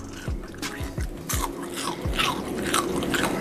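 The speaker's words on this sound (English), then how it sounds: "You hear that crunch?" Tater tots being bitten and chewed up close, a run of sharp crunches in quick succession followed by softer, wetter chewing, heard alone with no talk.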